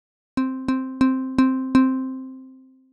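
Physically modelled guitar string in Logic Pro's Sculpture synth, plucked five times in an even rhythm, each note bright at the attack and ringing on the same pitch, the last one decaying slowly into silence.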